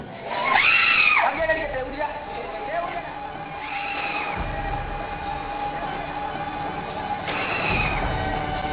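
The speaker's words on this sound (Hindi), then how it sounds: "चीखना, चिल्लाना," Schoolgirls scream and shout in rising, high-pitched bursts, a loud wail near the start and further cries later, over a noisy crowd with voices throughout.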